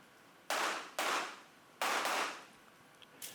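Gunshots on a USPSA practical shooting stage: three loud, sharp reports with ringing tails at an uneven pace, followed by a fainter shot, heard outdoors with no talking.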